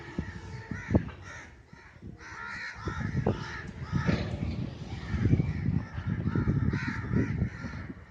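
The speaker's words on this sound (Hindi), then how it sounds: "और कौवे सर्दी में मौज मस्ती कर रहे हैं, ये देखें, एंजॉय कर रहे हैं सर्दी को।" Crows caw repeatedly in the open during a rainy winter day, several birds calling at once in loud, overlapping bursts with steady background noise.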